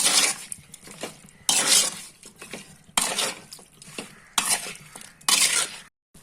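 Chicken for Mangalorean chicken gassi cooking in a pan with tempering, heard as repeated bursts of stirring and metal utensil scraping against the pan over a soft sizzle, fairly close, with brief quiet gaps.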